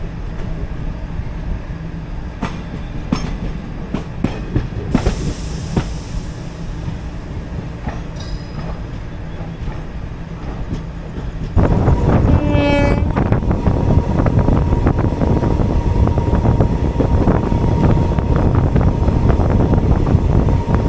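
The 16766 Mettupalayam Express running onto the main line near Coimbatore North, heard from on board: a steady rumble with rhythmic wheel clicks that grows heavier partway through, and a rising tonal squeal or horn-like whine sounds briefly.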